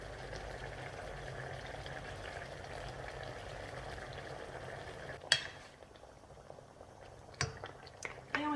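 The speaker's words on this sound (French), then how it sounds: "Et on laisse mijoter" Chicken and pineapple with soy sauce simmering in a pan, a steady low bubbling hiss held for several seconds, then quieter with a few sharp clicks and knocks, no talking.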